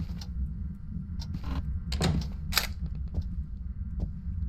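A door moving in the Phasmophobia ghost-hunting video game on nightmare difficulty, with several sharp knocks and bangs scattered over a steady low rumble, moderately loud and without speech.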